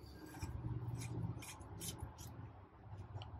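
A plastic cap is screwed by hand onto a Berkeley 12JG jet boat pump, its threads coated in oil, making faint, close rubbing and scraping sounds that rise and fall for a few seconds.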